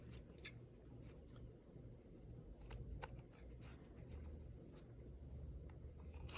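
Quiet, close snips of scissors cutting, a few crisp clicks scattered over several seconds against a low hum.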